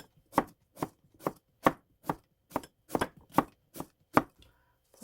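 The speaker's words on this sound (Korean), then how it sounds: "오이는 이렇게 굵지가 않아서 저는 가운데 안 가르고 그냥 얄팍얄팍하게 이렇게 쓸게요" A kitchen knife thinly slices a whole, unsplit cucumber: about ten crisp, evenly spaced chops land close and clear in a steady rhythm, with no talking.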